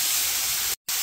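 A short burst of cooking oil spray hisses steadily onto a pan, cuts off briefly near the end, then resumes, close and loud.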